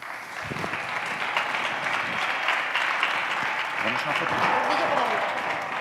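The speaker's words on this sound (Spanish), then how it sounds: "Un aplauso también." An audience at an event on accessible tourism claps steadily for several seconds, a dense sustained round of applause with a voice speaking over it.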